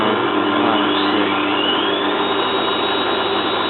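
A Zanussi FLA1002W washing machine ramps up in a short spin burst on a duvet load, a loud, steady, whooshing drum roar with a faint rising whine, close and continuous.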